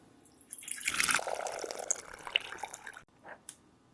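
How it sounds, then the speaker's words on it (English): Water runs into a pot for a few seconds, a broadband splashing rush that rises, holds steady, then cuts off, followed by a couple of faint drips. "So I'm going to fill my pot with water here, filtered water."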